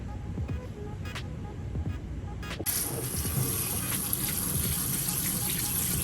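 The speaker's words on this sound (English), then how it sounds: "And now I'm just gonna water it." Water poured into the soil of a newly repotted philodendron in its pot, a steady close gush starting after a few seconds of handling noise and continuing without a break.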